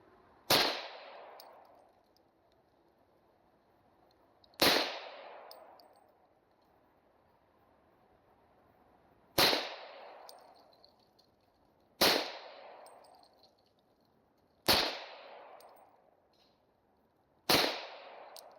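Six sharp pistol shots from a Taurus TH40 in .40 caliber, each a loud crack with a short echoing decay, spaced several seconds apart outdoors with quiet between.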